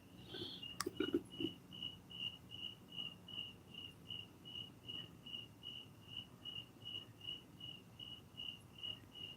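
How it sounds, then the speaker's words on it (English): Crickets chirp at night in a steady, rhythmic pulse that runs the whole stretch, faint overall, with a few brief clicks and knocks near the start. "holy crickets, yeah, you hear them? They're loud as hell, aren't they?"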